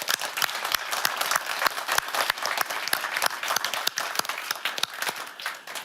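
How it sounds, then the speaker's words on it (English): Audience applause at an entrepreneurial business forum, a moderately loud round of clapping from a modest crowd with sharp individual claps standing out, lasting several seconds before fading. "And let's give them an applause."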